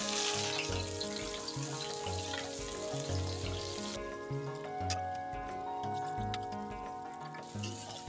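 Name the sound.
chili frying in a pan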